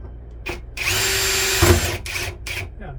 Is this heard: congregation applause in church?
no